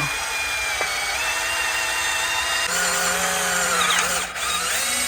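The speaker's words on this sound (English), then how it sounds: "And we're through. All right, we got a nice little pilot hole." A power drill whines steadily and close up, its pitch shifting as it bites through a steel Ford Econoline van frame, drilling a pilot hole, with no one speaking.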